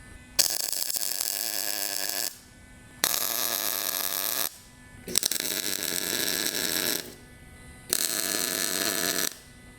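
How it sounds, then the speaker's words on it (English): Brackets are tack welded onto a truck frame during a Ford 4x4 frame-off restoration. Four separate welding bursts, each about two seconds long, give a harsh, steady crackling buzz with short quiet pauses between them. "So we'll go ahead and tack this now."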